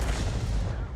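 A tank gun firing in a tank video game, a loud heavy boom with a dense low rumble that fills the whole second and tails off slightly at the end.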